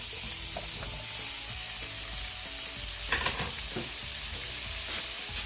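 Cauliflower fries in butter in a large skillet with a steady, dense sizzle throughout, close and continuous, with a few faint scrapes of stirring.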